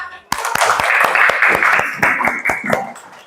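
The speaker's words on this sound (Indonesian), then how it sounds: "Tepuk tangan dulu untuk kelompok A." A classroom group claps together for a student team in quick, steady, near unison beats, loud and close, with voices mixed in.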